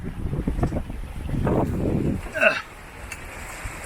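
A sailboat under way on Chesapeake Bay in a good breeze, with steady wind rush and water noise close by and a brief creak or whistle partway through; voices talk intermittently over it.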